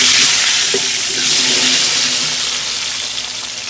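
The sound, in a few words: small potatoes frying in a kadai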